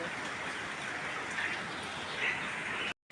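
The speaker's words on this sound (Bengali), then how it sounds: "কি বৃষ্টি প্রচণ্ড পরিমাণে বৃষ্টি হচ্ছে" Heavy monsoon rain pours down outdoors as an even, continuous hiss of drops on surfaces, fairly soft in level, before cutting off abruptly at the end.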